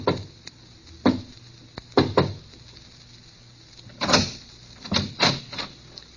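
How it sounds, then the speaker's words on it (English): Quiet knocks on a door on a deserted street at night: short soft raps in small clusters spread across several seconds, with silence between them. "then knocks quietly on a door"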